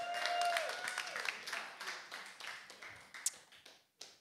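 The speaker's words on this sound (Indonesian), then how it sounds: "Mana tepuk tangannya buat KPI dong." A stand-up comedy audience in Indonesia claps, starting as a dense burst that thins into scattered, fading claps with a couple of late sharp single hits.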